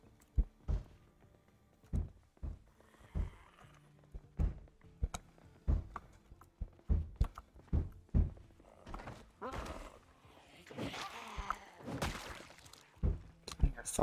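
Zombie thumping inside a bathroom in Project Zomboid: a run of dull, irregular thuds, close and fairly loud, spaced about a second apart, with a denser, louder cluster of knocks near the end.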